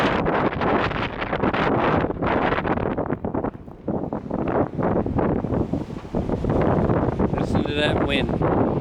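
Strong wind roars during a Maine blizzard with close to two feet of snow on the ground, a loud, continuous gusting rush buffeting the microphone with no pauses across the whole stretch.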